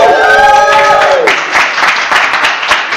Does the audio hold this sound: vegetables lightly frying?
no